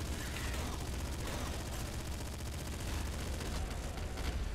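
A barrage of gunfire in the video game Nuclear Throne, a dense nonstop rattle of rapid shots and booms that fills the whole stretch, loud and continuous with no talk.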